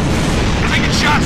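A starship cannon fires at a station lane in the Halo Reach video game: a loud, dense boom and roar that fills the whole short stretch without a break.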